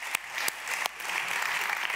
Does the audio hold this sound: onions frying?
no